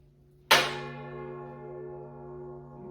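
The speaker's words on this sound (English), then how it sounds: "I don't want to hit it so hard that my gong stand falls over." A gong on a stand struck once with an elk-hide flogger, a sharp attack blooming into a long, bright shimmering ring with sustained metallic overtones that slowly fade, heard alone and close.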